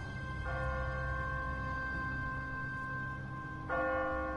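Church bell from The Walking Dead video game rings out with sustained, ringing tones, striking once early and again near the end, each strike a bright clang that hangs over a low steady background hum.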